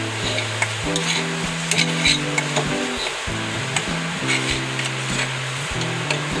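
Modak filling with nutmeg is mixed in a pan: quick, close stirring and scraping strokes with a light sizzle, over a steady melodic tone in the background, with no speech.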